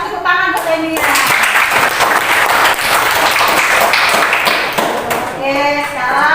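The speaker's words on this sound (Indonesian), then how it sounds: "Kasih tepuk tangan buat Enia." A school class applauds a student in an Indonesian classroom, loud sustained clapping from many hands lasting several seconds, with a voice speaking briefly before and after.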